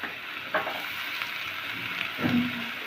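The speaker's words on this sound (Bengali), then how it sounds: "পেঁয়াজ, হালকা ভাজবো, বেশি ভাজবো না।" Onions fry lightly in a pan with a soft, even sizzle close by, broken by a couple of brief scrape or stir knocks.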